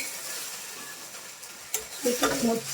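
Luchi, a puffed flatbread, fries in hot oil: a steady close sizzle and hiss throughout, with brief clatters of a utensil and bubbling bursts near the end.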